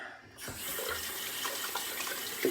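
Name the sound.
water running from a tap to wet the face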